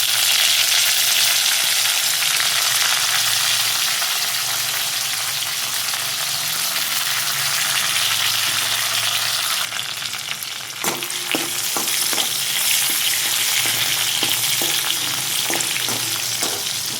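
Tomatoes and curry leaves sizzle and fry steadily in hot oil for a Maharashtrian lunch, a dense continuous crackle, with a few sharper stirring scrapes and clinks in the latter part.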